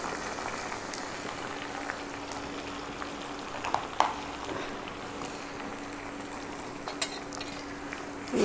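Masala with chopped tomatoes and fenugreek leaves fries and bubbles in a pot for chicken biryani, a continuous sizzling hiss with occasional clinks and scrapes of a stirring spoon, fairly quiet and without talk.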